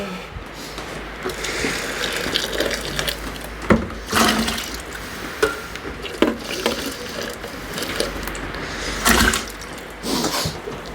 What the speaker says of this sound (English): Give this one another quick rinse and then we'll be there.